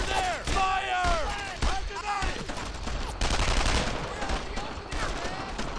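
Gunfire from a World War II shooter game, Brothers in Arms: Earned in Blood, with repeated bursts of rifle and machine-gun shots, sharp cracks and overlapping volleys, as voices shout commands between shots.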